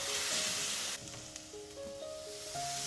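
Tomato paste frying in a pan with onion, garlic, ginger and chilli for an okra and onion curry, giving a steady close sizzle and hiss with no voices.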